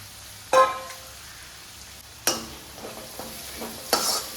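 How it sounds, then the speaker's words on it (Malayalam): Ginger, garlic and shallots sautéing in a pan, with a soft sizzle broken by three sharp scraping stirs of a spoon against the pan, close and fairly quiet, with no talking. "ഇതിലോട്ട് ഞാൻ ചുവന്നുള്ളിയും കൂടി ചേർത്ത് കൊടുത്തിട്ടുണ്ട്. നന്നായി തന്നെ നമുക്കൊന്ന് വഴറ്റി കൊടുക്കാം."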